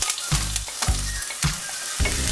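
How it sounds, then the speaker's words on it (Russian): Chopped onion sizzling in a hot frying pan, a bright crackling fry broken by repeated low scraping thumps as it is stirred, close and unaccompanied by talk. "На разогретую сковороду мы отправляем репчатый лук."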